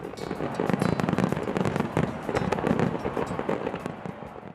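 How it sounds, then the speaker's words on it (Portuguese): Fireworks launched from barges burst over Rio de Janeiro in a dense, continuous barrage of booms and crackles, loud and sustained with no pauses throughout. "Nas 10 balsas serão quase 17 toneladas de fogos de artifício."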